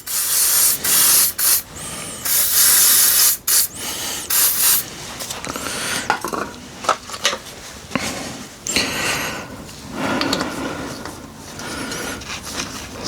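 Oil sprayed from a can onto the threads of a David Brown tractor PTO guard fitting, several sharp hissing bursts up close, then quieter rubbing and handling noises.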